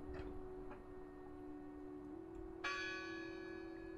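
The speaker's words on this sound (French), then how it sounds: "Quelqu'un sonne la cloche." A bell rings out in the video game Draugen, one sudden bright clang that hangs and rings on, heard over a quiet steady hum and faint ticking.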